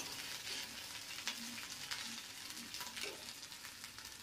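Flour and potato fry with spices in a pan, giving a quiet, steady sizzle broken by soft scraping stirs, with no voices.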